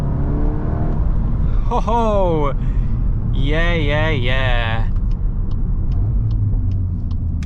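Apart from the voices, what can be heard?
Volkswagen Golf R MK8.5 Black Edition engine revving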